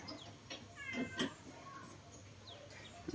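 A kitten gives a few short, thin meows close by over a quiet background, with a soft rustle at the end.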